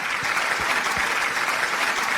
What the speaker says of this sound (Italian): Facciamo un applauso per Vincenzo D'Alessi.